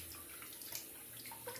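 Fresh cold water splashes and trickles in a sink as a face is rinsed after a shave, soft brief sloshing and dripping close by.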